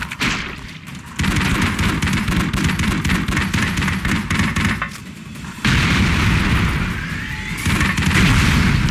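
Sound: explosion from blowing up a box in the video game Broforce

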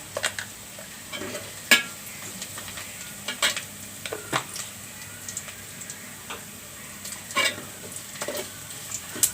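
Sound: nigella seeds (kalonji) sizzling in hot pan

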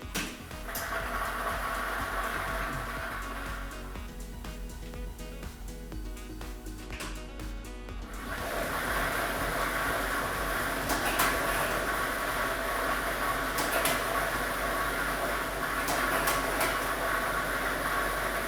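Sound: lottery ball drawing machine running

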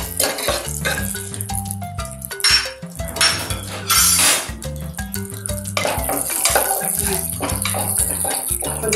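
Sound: pouring ghee into pan, frying cashews

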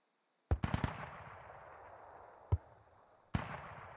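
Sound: mortar fire in video game Squad

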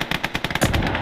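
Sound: mortar and gunfire in video game Gates of Hell: Ostfront

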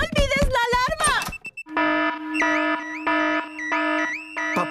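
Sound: car alarm going off in cartoon

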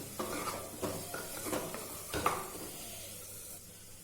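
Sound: frying chopped egg in a pan

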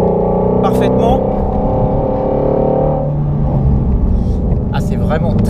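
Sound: Ford Mustang Shelby GT350R noise inside cabin on track

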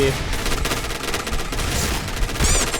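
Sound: HK416 gunfire in video game Point Blank

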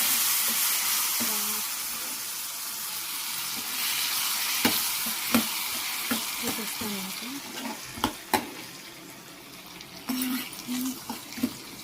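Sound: tempering sizzling in hot oil

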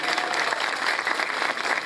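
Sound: applause for children's football champions at village festival

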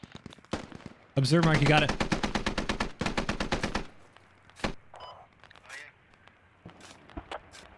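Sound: gunfire on a bunker in video game Squad

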